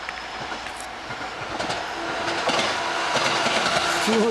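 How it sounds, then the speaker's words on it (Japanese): A train rumbles past in Japan with steady rattling and clattering wheels, growing slightly louder, with a faint horn-like tone near the end. "なんこれ普通の電車やん"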